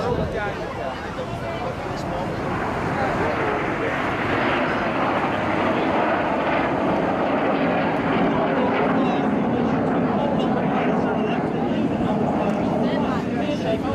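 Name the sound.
jet aircraft flying an airshow display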